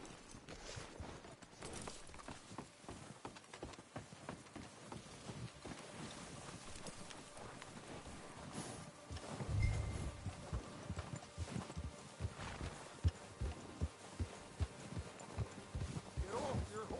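A horse's hooves clip-clop in Red Dead Redemption 2, a loose, uneven run of soft thuds under a low outdoor ambience, with heavier hoof falls partway through and speech heard across the scene.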